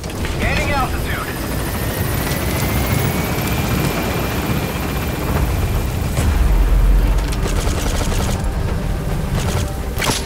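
Helicopter lifting off and gaining altitude in Metal Gear Solid V, a loud, steady rotor roar that swells toward the end, mixed with game effects.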